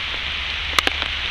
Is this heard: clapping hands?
no